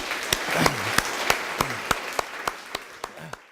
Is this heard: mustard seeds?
no